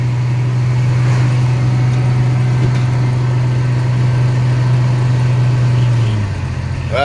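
Chevrolet S10 pickup with a swapped engine, on its first test drive and already in third gear, gives a steady loud low engine drone from inside the cab, easing slightly near the end, with no voices.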